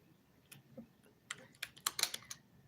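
Keys on a computer keyboard are tapped in a quiet room, a few scattered clicks at first, then a quicker burst of sharp, close keystrokes.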